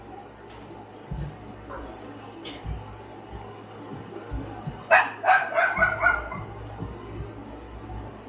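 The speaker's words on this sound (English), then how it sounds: "My little dog is looking out the window at the deer." A small dog indoors barks at deer outside a window, letting out a short burst of sharp, fairly close barks midway through, with a few faint clicks and yips before it.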